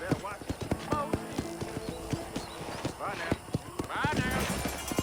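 Horse hooves clip-clop in Red Dead Redemption, steady and close, with a whinny rising near the end and someone talking over the top.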